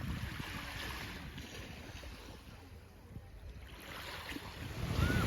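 Gentle waves lap softly against a quiet shore under light wind, swelling a little louder toward the end.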